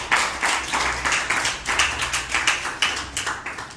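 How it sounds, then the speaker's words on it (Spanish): A church congregation claps together in a steady, quick rhythm, each clap sharp and close, with a low sustained tone humming beneath. "Denle el aplauso al Señor."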